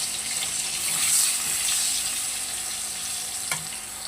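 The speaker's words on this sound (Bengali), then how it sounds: "আলুটা দেখো হালকা করে একটু ভেজে নিয়েছি" Potato pieces seasoned with salt and a little turmeric fry in hot oil, a steady bright sizzle holding throughout with a couple of soft stirring scrapes, close and alone.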